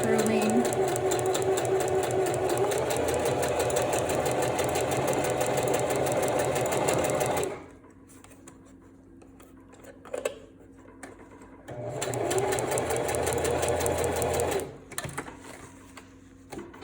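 Sewing machine stitching swim elastic with a long, basting-length stitch, heard as a loud, steady mechanical whir in two sustained runs separated by a quieter pause with faint handling noises.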